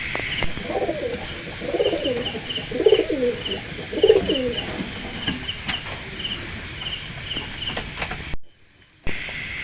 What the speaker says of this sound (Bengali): স্ক্রিনে যে কবুতরটি দেখতে পাচ্ছেন এটি হলো উমান ব্লাড লাইনের টেডি মাদি